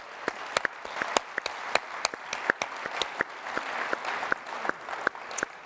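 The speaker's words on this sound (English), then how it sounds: "let's give them a big round of applause up here" Audience applause for sponsors at a keynote event, a crowd clapping steadily with several sharp, close, individual claps standing out loudly over the softer wash of the room.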